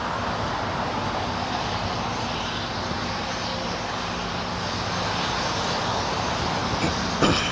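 A Polar Air Cargo plane on its takeoff roll at LAX, Los Angeles International Airport, gives a steady, loud, broadband jet engine roar that holds for several seconds, with a brief clatter near the end.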